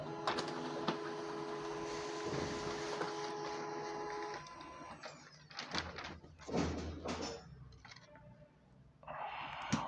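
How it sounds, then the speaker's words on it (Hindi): A colour printer at a wholesale printout and photocopy shop in Delhi runs off a printout with a steady whirring feed, then clunks and rattles as the paper moves through and comes out, close and fairly loud, with no talk. "ऐसे ही मैं आपको एक प्रिंट आउट निकाल के दिखाता हूँ कि क्वालिटी कैसी रहती है"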